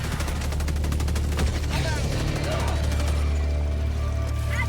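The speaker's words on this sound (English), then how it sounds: "The Stalwart is a support weapon like the machine gun, but sacrifices damage for better recoil, weapon handling, and the capability to reload while moving." In the video game Helldivers 2, the Stalwart support machine gun rattles off a long continuous burst of rapid automatic fire over in-game ambience and battle noise, with a voice talking over it.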